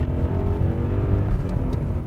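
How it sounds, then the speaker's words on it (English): A 5-litre V8 car engine rated at 400 brake horsepower roars loudly and close as it accelerates. The rumble is heavy and continuous with no speech over it. "all you have to do is put your foot down and hear that engine roar"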